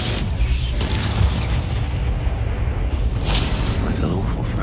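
In the Hogwarts Legacy video game, the Bombarda blasting spell goes off during combat as a dense spread of deep booms and rumbling impacts, with voices speaking over the fight.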